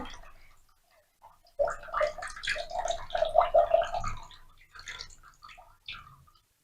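Water sloshes and swirls as flattened rice (poha) is rinsed by hand in a bowl, a close, gurgling series of wet splashes and drips in bursts with short pauses between them.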